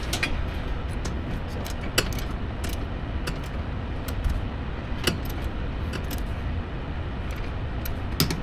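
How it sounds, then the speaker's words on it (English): A torque wrench tightens rear sway bar bolts on an FL5 Civic Type R, producing a run of sharp, regular ratcheting clicks close by, with occasional louder snaps over a low background rumble. "now we're going to torque this down 27 foot-pounds for these guys"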